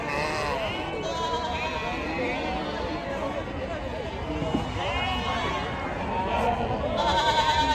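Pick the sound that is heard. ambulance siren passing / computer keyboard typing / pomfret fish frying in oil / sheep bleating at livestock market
sheep bleating at livestock market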